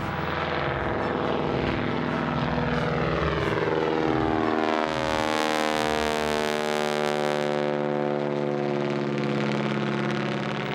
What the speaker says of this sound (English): This is the world's oldest flying Boeing aircraft and the only flyable Model 40 in the